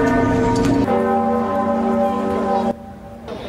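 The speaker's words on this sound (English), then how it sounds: "Church bells rang across France today in honor of Notre Dame." Church bells ring out across France in tribute to Notre Dame cathedral, loud sustained tolling with rich ringing overtones that carry on steadily, then drop away toward the end as the resonance fades.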